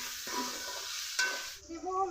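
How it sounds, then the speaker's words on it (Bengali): Chopped tomatoes frying with onion, ginger and garlic in a pan for jackfruit and prawn curry, a soft sizzle with stirring scrapes that swells at moments, no talking. "এখন দিয়ে দিব টমেটো কুচি, দিব লবণ দিয়ে আরো কিছুক্ষণ এভাবে কষিয়ে নিব।"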